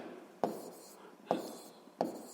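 Pen or chalk strokes while writing numbers by hand for a physics exercise, three short sharp taps each trailing into a brief scratch, evenly spaced and fairly close in a quiet room.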